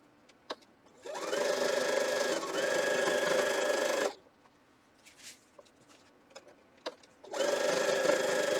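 A sewing machine stitches a quilt block in two steady runs of rapid, even needle clatter, the first about three seconds long and the second starting after a quiet pause with a few light clicks, close and clear with no talk.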